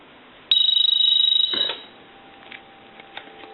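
A Teleconcept clear transparent telephone rings once with a loud, close electromechanical bell trill lasting about a second, followed by a clunk and quiet faint clicks afterward, with no talking.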